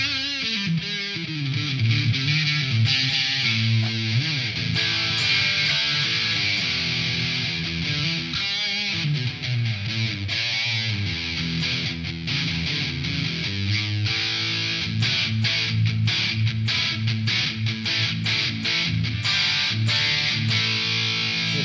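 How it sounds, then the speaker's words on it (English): Crunchy, distorted electric guitar through the crunch channel of an Enya Inspire plays chords and riffs steadily, loud and sustained, with no voices. "Great sort of crunch sound again on the app there."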